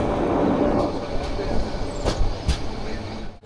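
Passenger train on the Dhaka to Cox's Bazar line running through hilly country, a continuous rolling rumble inside the carriage with a few sharp wheel clacks toward the end.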